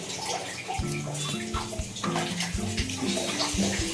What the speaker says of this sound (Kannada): ಸ್ವಲ್ಪ ಆಯಿಲ್ ಹಾಕ್ತಿದ್ದೀನಿ.